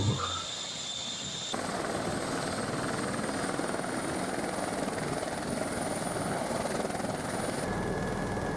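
A helicopter over Stockholm gives a steady, loud, continuous rotor and engine drone heard from inside the cabin, unbroken throughout, with no talking.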